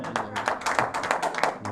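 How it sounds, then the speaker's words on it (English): Scattered clapping from a crowd watching a TAOM 8-ball pool masters final, heard as irregular taps and claps over roughly two seconds at moderate distance, with a faint hum underneath. "As you can probably hear from the clapping in the background, there's a decent crowd in watching this."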